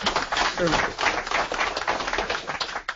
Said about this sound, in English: I want you to all give yourselves a round of applause for this.